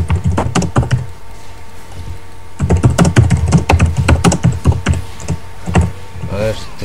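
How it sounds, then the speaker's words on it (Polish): Fast keyboard typing clatters close up in bursts, rapid key taps with a short pause in the middle, while a low hum runs underneath throughout. "Ależ ty stukasz tylko klawiatura."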